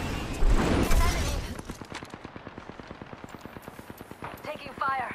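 Rapid automatic gunfire in Apex Legends, a steady burst of evenly spaced shots after a louder opening blast, with voices and game sounds over the start and end.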